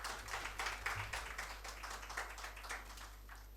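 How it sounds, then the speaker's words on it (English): Faint, ragged audience clapping at an evening design event honoring M P Ranjan at AMA, with soft, uneven bursts of hand claps throughout and no voices. "Please give her a round of applause, please"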